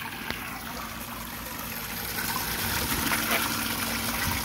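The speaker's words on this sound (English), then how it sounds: "like we got good flow through the engine." Water runs continuously through a Yamaha outboard engine during a water and vinegar flush, a steady gushing, trickling flow, low constant rush with occasional small splashes, fairly quiet and close.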